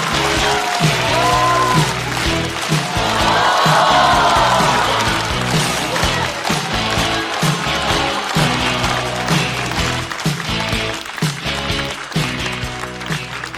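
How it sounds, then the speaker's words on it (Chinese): Studio audience at a Chinese stand-up comedy show applauds and cheers as a comedian is welcomed onstage, a dense, loud, steady roar of clapping and shouts with music-like thumping underneath. "掌声欢迎 Harry！"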